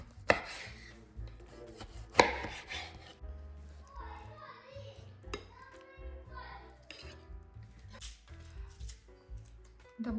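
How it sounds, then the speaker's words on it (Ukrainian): A knife cuts through eggplant on a board with irregular slicing, scraping strokes and a couple of sharper knocks, close and fairly quiet. "Я достаю синьку нашу. Таку от нарізаю її."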